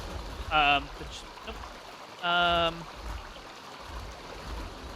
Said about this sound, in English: So this is the big, big waterfall with the cherry blossom on it.